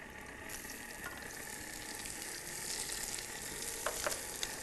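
Chili and onion frying in a pan, a steady soft sizzle with occasional stirring scrapes and clinks, fairly quiet and close, with no talking.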